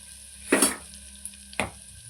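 A utensil stirs curry in a pan with ginger garlic paste and turmeric, giving two scraping strokes over a steady low sizzle, close and moderately loud, with a faint tap between them.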